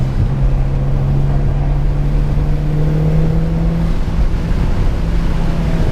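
A Mitsubishi Evo X lapping a race track on a track day gives a loud, continuous engine drone that holds a steady note and then climbs slightly in pitch partway through.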